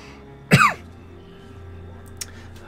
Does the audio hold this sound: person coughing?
yes